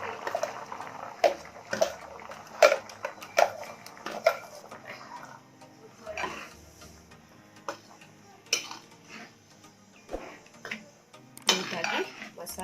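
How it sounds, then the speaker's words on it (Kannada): Masala is mixed into sprouted horsegram sambar in a pot, with a spoon clinking and scraping against metal in irregular knocks amid soft bubbling and background clatter. "ನೀಟಾಗಿ ಮಸಾಲೆನ ಮಿಕ್ಸ್ ಮಾಡ್ಕೋಬೇಕು"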